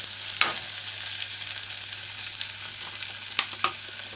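Onions frying in a hot pan for lo mein give a steady, fairly faint sizzle close by, with a few brief scrapes or stirring clicks and no talking.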